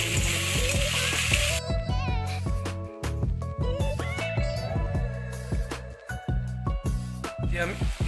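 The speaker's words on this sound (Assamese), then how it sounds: "এই টেঙাখিনি ফ্ৰাই কৰি ল'ম" Elephant apple pieces frying in a pan, a steady loud sizzle running throughout with some stirring clatter, while a person talks over it.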